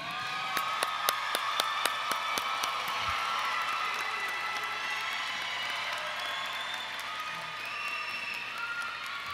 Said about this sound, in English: join with us and acknowledge and applaud our students once more time